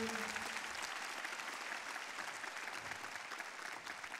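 Steady, loud applause from an audience, continuous clapping filling the whole stretch without a break.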